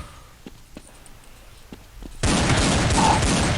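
Gunfire erupts in a first-person shooter video game: a few sparse distant shots give way to a sudden, loud, continuous barrage of rapid automatic fire.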